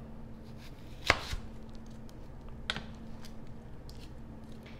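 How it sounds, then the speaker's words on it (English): A knife slices an onion in half on a cutting board for kimchi jjigae, giving one sharp chop followed by a softer second cut, close and quiet with no talking. "We're just going to cut it in half."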